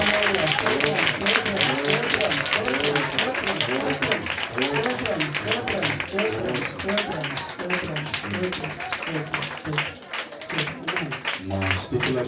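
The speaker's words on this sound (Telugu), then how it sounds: "దేవుని గట్టిగా చప్పట్లు కొట్టి ప్రభుని మహిమపడతాం" A church congregation claps loudly together in a dense, continuous burst of applause that carries on throughout, with voices mixed in underneath.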